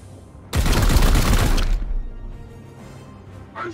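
A sudden, loud, dense burst of rapid gunfire erupts in the Chaos Gate: Daemonhunters video game, lasting just over a second before fading into quieter background sound.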